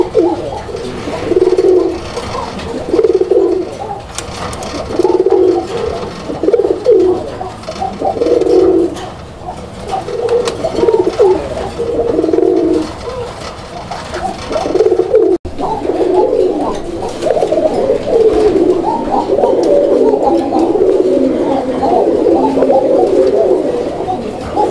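A pair of Raj-Golla pigeons, including a male with a fine call, coo close and clearly in repeated rolling bursts, with deep throaty calls continuing almost without pause for about twenty-five seconds.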